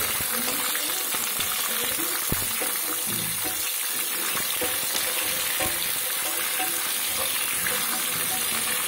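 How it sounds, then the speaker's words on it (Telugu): Mustard seeds, spices and green chillies crackle and sizzle loudly and continuously in hot oil while tempering for semiya lemon pulihora, with occasional sharper pops and stirring. "పోపులు బాగా వేగితేనే మనకి పులిహోరకి మంచి టేస్ట్ వస్తుంది."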